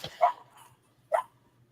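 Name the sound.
dog barking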